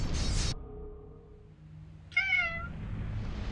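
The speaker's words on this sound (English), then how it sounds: "Yes, kitties." A single clear cat meow rises out of near silence, short and close, after a brief burst of noise at the start.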